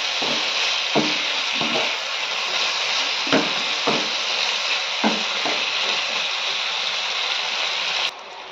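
Fried potato and pointed gourd sizzling in a pan of spiced masala, a loud continuous hiss with a handful of scraping stirs knocking through it, close and alone until the sizzle cuts out at the end.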